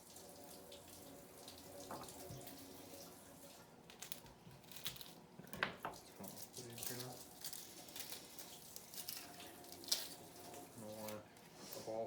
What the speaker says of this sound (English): If you don't rinse your rice well, you're going to end up with sticky, gloppy rice.